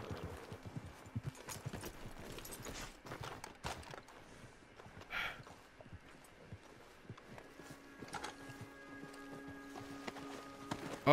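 Horse hooves clip-clop steadily at a walking pace in Red Dead Redemption 2, close and fairly loud, with scattered gunfire-like cracks and game ambience around them.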